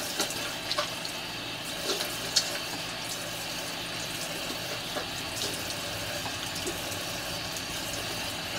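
A tap runs steadily while someone rinses their face, making a constant soft hiss of flowing water with a few faint splashes.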